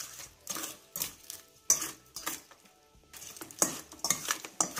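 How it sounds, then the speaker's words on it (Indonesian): Raw shrimp and curry seasoning being mixed in a bowl for marinating, with a wet squelching and scraping of a spoon in uneven strokes, separated by short quiet pauses, close and soft, with no voices. "Lalu kita mau aduk jadi satu. Aduk supaya merata ya."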